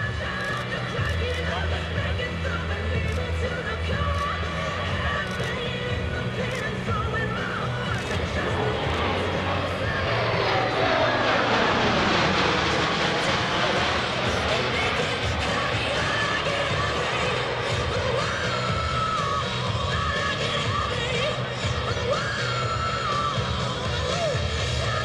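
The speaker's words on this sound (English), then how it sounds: "Notice how quiet the C-17 is while passing show center." A C-17 Globemaster III transport jet makes a quiet low pass at an airshow in New York, its steady engine roar swelling slightly as it passes, with a long Doppler-like sweep and crowd noise beneath.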